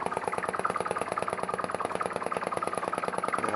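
A flame-heated vacuum (atmospheric) engine runs close by with a fast, steady, even chuffing beat from its cylinder, loud and unbroken throughout.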